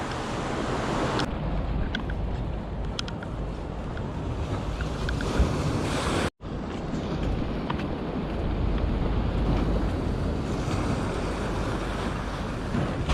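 Ocean surf washes in steadily as the tide comes in at John's Pass, a constant broad rush mixed with heavy wind buffeting on the microphone and one brief dropout midway.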